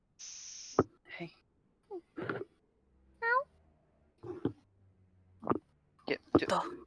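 A cat gives a short, rising meow in the middle of a stretch of quiet voices and soft bumps, heard close by amid scattered whispering and brief noises.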